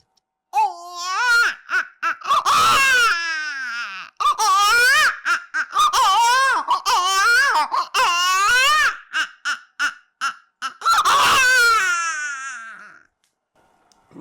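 A Kannada mimicry artist uses only his voice to imitate a baby crying, producing loud, close wailing sobs in long rising and falling bursts with short breaths between them.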